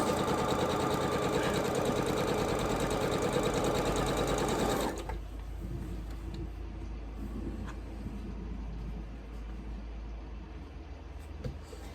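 A sewing machine stitching quilt fabric corner to corner for a Bobbin Blooms quilt, running loud and steady with a fast whirring motor for about five seconds before stopping, leaving quieter handling noise.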